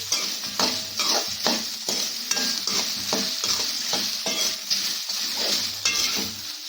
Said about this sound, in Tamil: உப்பு சேர்த்து இந்த மாதிரி நல்லா வந்து வதக்கிக்கலாம்